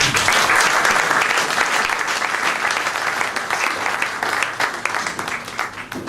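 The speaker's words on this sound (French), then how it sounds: "Donc elle mérite des applaudissements." At a French ceremony honoring 89 diploma graduates, the audience gives a graduate sustained applause, a thick, even crackle of many hands clapping that tapers slightly near the end.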